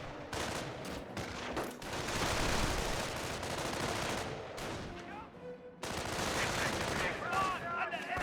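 Grenadier rifle and machine-gun fire in the World War II strategy game Company of Heroes, repeated crackling volleys and bursts of battle noise, with a commentator talking over it.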